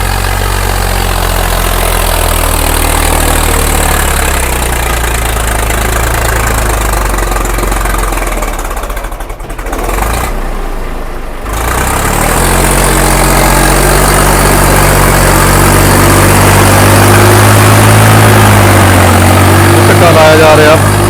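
Heavy diesel engines of an excavator and a tractor rumble and idle steadily throughout as the excavator pushes the tractor, with a brief dip in the noise midway before the loud machinery drone resumes.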